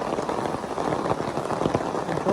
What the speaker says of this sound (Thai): โอ้ฝนตกหนักทุกคนเลย